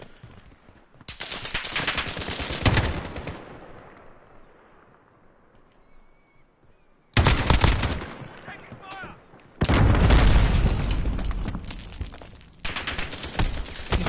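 Bursts of video game gunfire and explosions in a multiplayer shooter match, loud dense volleys at the start, then after a quieter stretch two further long, heavy barrages of rapid shots, with a voice talking now and then.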